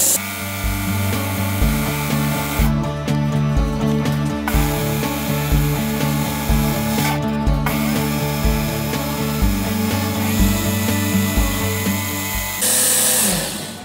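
A Work Sharp sharpener grinds a steel knife blade, throwing sparks, with a loud, steady motor whine and abrasive grinding that pulses in regular passes and briefly breaks off twice, alone without talk.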